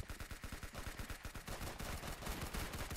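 Rapid automatic gunfire from a weapon in the video game Arsenal, a close, loud stream of evenly spaced shots that blurs into a denser burst partway through.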